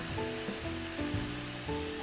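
Stir-fry sauce sizzles in a hot pan with tofu for spicy lettuce wraps, a steady, close, crackling hiss with no talking.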